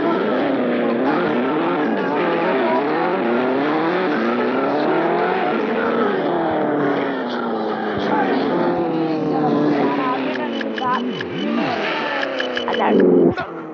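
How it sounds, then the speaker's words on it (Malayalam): Modified car driven in the mobile game Extreme Car Simulator: a continuous, loud engine drone whose pitch repeatedly climbs and falls as it revs and shifts, with brief squealing near the end. "ഈ ഗെയിമിന്റെ പേരെന്ന് പറഞ്ഞാൽ എക്സ്ട്രീം കാർ സിമുലേറ്റർ എന്ന് പറഞ്ഞ ഗെയിമാണ്"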